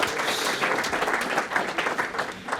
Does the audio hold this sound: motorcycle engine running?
no